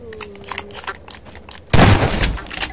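A shotgun fires in Half-Life 2 with one sudden loud close blast that fades out over about a second, after some quieter clatter and a short tone.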